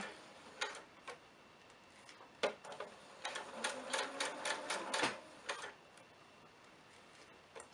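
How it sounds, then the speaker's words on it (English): A sewing machine runs basting stitches down zipper tape in short bursts, quiet rapid ticking runs that start and stop, denser in the middle and fading out toward the end. "we're just gonna sew the zipper tape down the middle with our basting stitches here"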